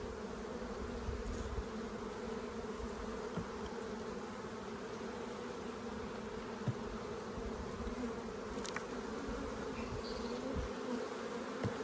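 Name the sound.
honeybees in a hive during inspection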